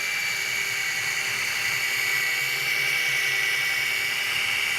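A rotary buffer polisher runs at a slow 600 RPM while buffing Createx 4053 UVLS high gloss clear coat, giving a loud, steady whine with an even drone and no pauses.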